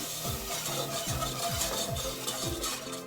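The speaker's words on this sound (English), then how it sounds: "And I'll whisk in the whole milk." Whole milk whisked into a cooking butter-flour roux for béchamel, with steady rhythmic scraping and swishing strokes against the pan and a light sizzle underneath, close and continuous.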